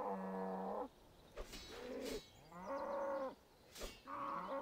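Cows moo repeatedly in a video game, several drawn-out lowing calls in sequence with brief pauses and sharp bursts between them, fairly loud and without talk.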